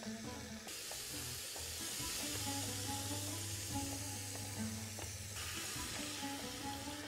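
Chicken sears in a hot pan to brown golden for a yellow-rice dish, a steady broadband sizzle filling the whole clip with a few stirring knocks and a low hum underneath, close and continuous with no talk.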